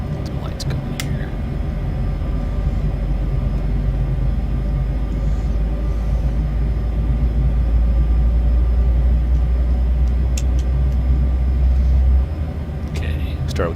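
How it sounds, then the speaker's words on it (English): MD-11 airliner engines spooling up at startup, a loud continuous deep rumble and roar with steady tonal hum, heard from close by and holding level throughout, with no voices. "Okay, start with engine 3, you go to engine 1."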